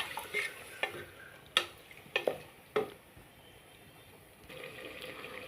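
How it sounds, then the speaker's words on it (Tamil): Salted chicken is stirred in a pan, with a quiet bed of sizzling and a string of sharp spoon scrapes and clinks against the metal, spaced irregularly, then calmer frying at the end. "ஒரு ஸ்பூன் உப்பு போட்டுட்டு நல்லா உப்பு மிக்ஸ் ஆகிற அளவுக்கு கிண்டி விட்டுடலாம்"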